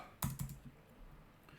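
Two quick, faint keystrokes on a computer keyboard, close together, followed by near silence.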